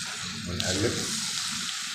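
A brief stir of tomatoes and meat in a frying pan, a close sizzle with a scraping utensil pass and a small clack at the end.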